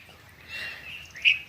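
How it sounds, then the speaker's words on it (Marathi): Birds chirp in the trees in the morning, giving faint, thin calls over a low background murmur. One brief, sharper tweet stands out near the end. "सर्व पक्षी जागे झालेली आहे आणि झाडावरच चुळबुळ करत आहे"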